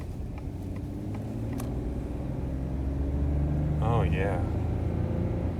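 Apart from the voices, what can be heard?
2021 Ford F-150 2.7 engine accelerating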